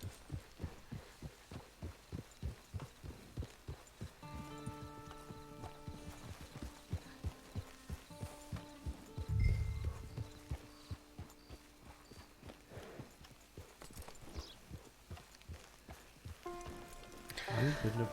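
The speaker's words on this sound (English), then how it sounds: "It's your horse." Horse hooves clip-clop in Red Dead Redemption 2, a steady rhythmic plodding at walking pace that runs through the whole stretch, with someone talking over it and soft game music underneath.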